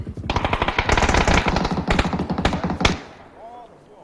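Rapid bursts of automatic gunfire close up, a fast rattling stream for about three seconds, then fading to quiet with a faint high ring.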